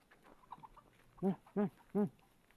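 Three short, loud bird calls in quick succession, like a junglefowl crowing or clucking, over faint background noise.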